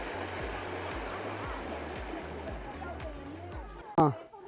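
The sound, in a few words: voice-activated fountain water jet shooting up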